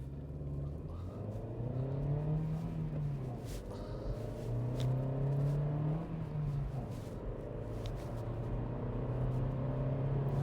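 A VW Polo R-Line accelerates from 0 to 60, its engine revving up steadily through several gear changes, the pitch climbing then dropping between shifts, heard from inside with a constant rumble.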